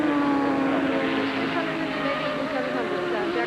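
1987 IMSA GTP race cars at Lime Rock Park, including a turbocharged 3-liter flat-six Porsche and a 6.5-liter fuel-injected Detroit V8, droning engine tones that waver and sweep in pitch under continuous commentary.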